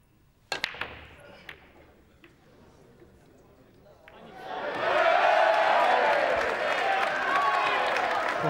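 A billiards crowd reacts to an American player's failed break: a sharp ball strike early on, a quiet pause, then a swelling, sustained roar of murmuring and groaning spectators that fills the hall and holds to the end.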